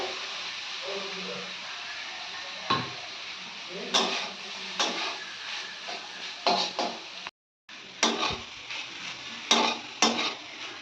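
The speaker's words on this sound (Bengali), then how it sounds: "এই যে এখন ভাজছি এখানে গাজর, ক্যাপসিকাম, বরবটি, বানাচ্ছি একটু চিড়ের পোলাও।" Carrot, capsicum, beans and flattened rice for chire pulao sizzle in a pan, with repeated sharp scrapes and clinks of a spoon stirring against the metal over a steady frying hiss, plus a brief dropout midway.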